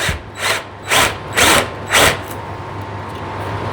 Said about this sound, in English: carefully drill through with the paddle bit